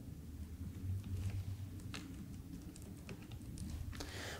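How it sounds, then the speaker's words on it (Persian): Typing on a computer keyboard while composing an email, soft scattered key clicks in short bursts against a quiet room hum, no talking. "اینجا ما تایپ میکنم"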